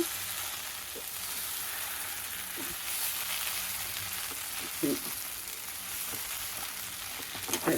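Taro greens frying in a pan make a steady broadband sizzle, with a few soft scrapes and knocks from stirring scattered through it and no voices.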